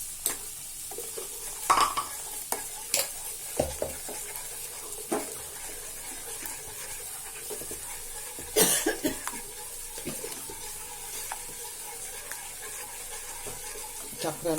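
Phirni payasam being stirred in a pot after sugar is added, soft repeated scrapes and taps of a ladle over a faint bubbling simmer, with a cough and a few louder knocks.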